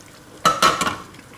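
Pulao being stirred in a cooking pot with a utensil, heard as two or three quick, close scraping strokes against the metal, then a softer trailing scrape with no talking.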